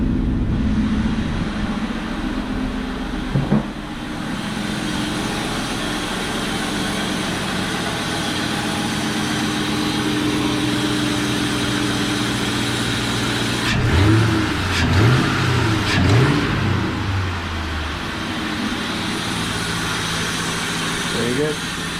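A stock-exhaust 2003 Ford Mustang GT V8 convertible with 59,000 miles idles with a steady low rumble, then blips through several short revs near the end, with people talking faintly around it.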